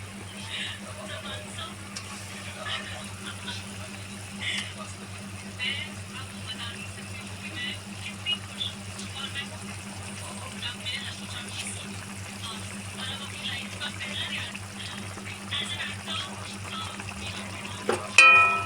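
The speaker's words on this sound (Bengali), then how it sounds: "এবার আমি একটুখানি মাছগুলো সব ছেড়ে দেবো।" Bhola fish fries in a bubbling spice mixture in a pan, giving a quiet, continuous sizzle with scattered crackles over a low steady hum.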